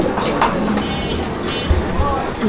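Pet pigeons coo softly in an indoor collection while people talk nearby, low murmuring calls under the voices and light background clatter.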